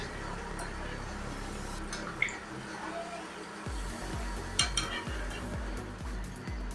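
Rava appalu frying in oil, a soft steady sizzle with a few faint utensil taps and a low rumbling hum entering partway through, quiet and close.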